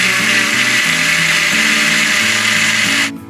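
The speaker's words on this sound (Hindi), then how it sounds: "तभी इसको मैं ग्राइंड कर लेती हूँ।" An electric blender grinds a four-ingredient chikoo milkshake in its jar, a loud close motor whine with shifting pitch as the contents churn, running steadily before cutting off abruptly at the end.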